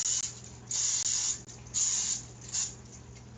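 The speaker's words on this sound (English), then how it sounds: "we're just gonna quickly spray down the inside of this with some oil, just to prevent it from sticking" Olive oil cooking spray hisses inside a pan in three close bursts of about a second each, with brief pauses between them and no talk.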